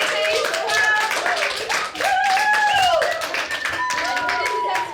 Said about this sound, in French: Bravo, les applaudit bien fort parce qu'ils ont répété une fois.